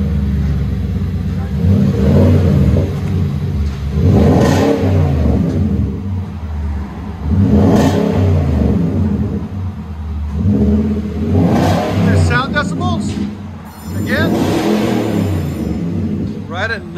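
A Nissan Titan pickup with a 5.6-litre V8 and MagnaFlow exhaust revs repeatedly, several deep rumbling swells a few seconds apart, loud and close, with someone talking over the engine.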